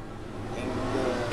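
Car engine revving at a distance, a mid-pitched rising and swelling roar heard faintly in the background for a brief moment with no talk.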